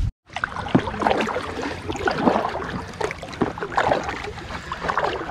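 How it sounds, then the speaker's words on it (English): A packraft floats down a river, with nearby water lapping and splashing against the hull. Irregular paddle-like strokes and soft wind sit over a steady flowing background. "we're floating here down the river"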